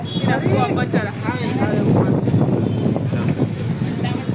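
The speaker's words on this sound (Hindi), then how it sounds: "इतनी मस्त हवा चल रही है" Strong wind blows outdoors on a trip around Vadodara, a loud continuous rush with gusty buffeting against the microphone, while people talk throughout.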